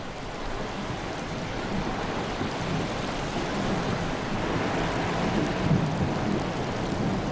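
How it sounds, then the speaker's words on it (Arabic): Steady, heavy rain pours down during a storm in Oman, with low thunder rumbling beneath the constant hiss. The sound stays loud and continuous throughout, and no voices are heard. "يسقط المطر"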